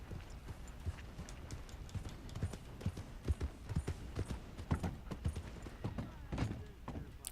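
Horse hooves clip-clop steadily in Red Dead Redemption 2, a close, even trotting rhythm of sharp knocks that runs the whole time over a low ambient bed.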